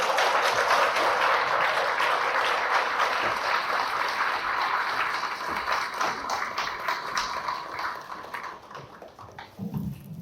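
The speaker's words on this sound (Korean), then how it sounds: "박수로 모시겠습니다." A book talk audience applauds steadily to welcome two guests onto the stage, a dense, loud clapping that slowly thins toward the end.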